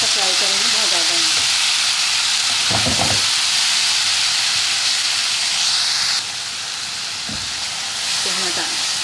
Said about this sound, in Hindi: तो हल्का सा फ्राई करेंगे, बहुत ज़्यादा नहीं।